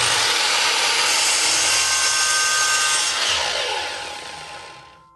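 A sliding miter saw rough-cuts a wooden board, a loud broadband whining rasp through the blade that holds steady for several seconds before spinning down and fading out near the end.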